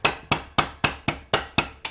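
A mallet or hammer strikes a long socket extension to seat a starter on a Honda Recon 250es ATV: eight sharp metallic blows at a steady, quick rhythm, close and loud, each ringing briefly.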